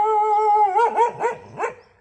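A dog lets out a sustained whining howl that breaks into a few quick, close barks or yips, loud and alone.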